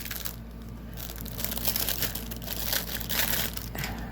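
A plastic bag crinkles and crushes up close, quiet at first and then building into a continuous rustle that runs to the end.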